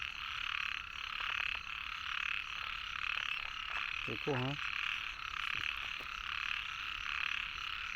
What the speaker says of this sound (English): And you can listen to all the frogs.